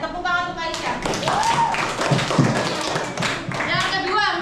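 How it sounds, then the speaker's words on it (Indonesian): Children in a classroom break into applause, a dense patter of many small hands clapping close by for a few seconds, with a voice and classroom chatter mixed in. "Tepuk tangan untuk Aisyah."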